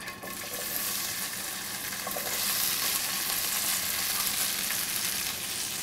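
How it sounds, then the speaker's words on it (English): Potatoes brown in olive oil in a cast iron pan, giving a dense, continuous sizzle and crackle of frying that holds steady throughout, close and fairly loud with no talking. "we're gonna just brown off the potatoes. So I just get a nice oven-proof pan, like a cast iron pan or a sautoir on the heat,"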